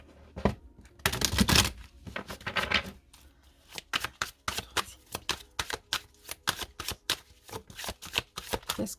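Oracle cards being shuffled and laid out, a loud riffling burst of card shuffling followed by a rapid string of crisp slaps and flicks as cards are dealt, close by and without talk.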